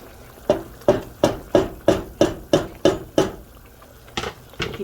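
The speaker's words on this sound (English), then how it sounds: "stirring until the chocolate is dissolved" A spoon knocks against a pot of bubbling chocolate mole sauce in a steady run of about nine evenly spaced metallic clinks, close and clear, then a few softer scrapes with no talking.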